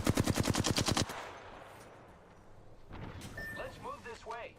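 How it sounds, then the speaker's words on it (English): Video game gunfire: a rapid burst of about ten loud automatic shots opens, then a quieter stretch before a voice speaks over faint game sounds. "Listen up, I'm getting shot at."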